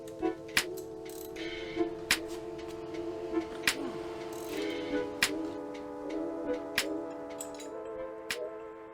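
Spring compressors are screwed down onto a KW ST coilover spring for a Dodge Neon SRT4, giving quiet metallic ratcheting with sharp periodic clicks roughly every second over a faint mechanical whir, close and without speech.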